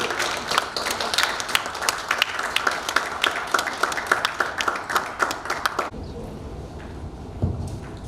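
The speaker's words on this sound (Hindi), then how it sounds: "उनका स्वागत जोरदार तालियों से होना चाहिए।" A crowd applauds a speaker at a speech event with dense, energetic clapping for several seconds, then it cuts to a quieter room with a few faint scattered sounds.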